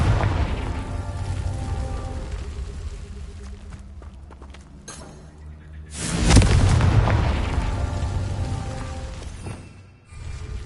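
A Confringo explosion spell in a Harry Potter video game goes off as a sudden loud boom midway, swelling into a rumbling roar that fades over several seconds, following quieter game ambience with footsteps.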